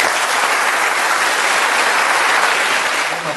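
A lecture audience applauds a speaker, a dense, steady wash of clapping that stays loud throughout before starting to fade at the very end.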